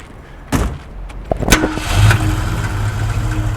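A Mustang engine cranks over and catches, settling into a steady low idle with a few sharp clicks and knocks at the start.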